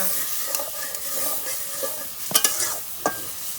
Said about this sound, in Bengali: এখানে কষানো হচ্ছে